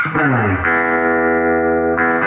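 A sustained chord on a Gretsch Brian Setzer Hot Rod electric guitar with a wavering tremolo pulse and a washy spring reverb tail, loud and close.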